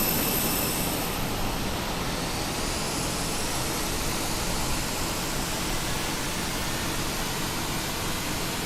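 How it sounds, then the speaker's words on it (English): Airbus A319 engine spooling up in a flight simulator, heard as a steady, loud broadband roar with a faint rising whine, continuous throughout with no talk. "Let's go ahead and start engine number 1."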